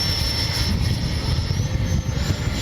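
A Freewing A-6 Intruder 80mm EDF model jet, remaidened and patched with hot glue, flies on a windy day as a steady, loud rushing whine with wind buffeting throughout, no voices.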